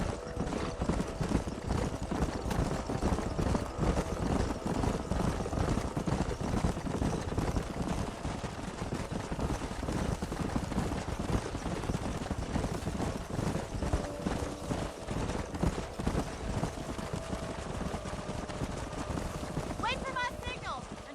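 Horses gallop in the Red Dead Redemption video game, a steady dense clatter of hooves running the whole time, with music and ambient noise layered underneath and a faint whinny near the end.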